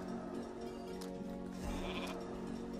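A sheep bleats in a video game as a polymorph spell turns a character into a sheep: a wavering, nasal baa, fairly loud and close, with no talk.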